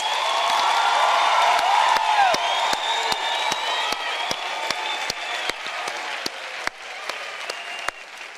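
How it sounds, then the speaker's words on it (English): At a university autumn graduation ceremony, a large audience gives the graduates sustained loud applause with cheering and whoops, a few sharp individual claps standing out near the end. "Please, let's give them a big round of applause."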